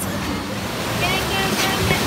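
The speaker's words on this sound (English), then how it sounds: "I don't know if you guys can hear me because waves are crashing pretty loudly" Ocean waves crashing loudly on a Jamaican shore at Little Ochie, a dense, close roar of surf filling the short moment with constant rushing water and no clear gaps.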